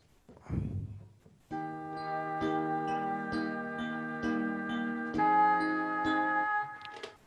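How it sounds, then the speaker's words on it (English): A simple solo melody rings out over sustained accompanying tones, starting after a brief low thump, steady and moderately loud with gentle note changes. "What you heard there was a simple solo sound with a simple accompaniment."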